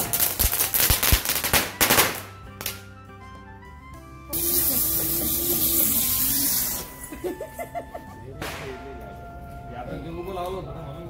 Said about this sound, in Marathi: असं आम्ही आता इथे मस्त सगळे मिळून फटाके फोडतो आहे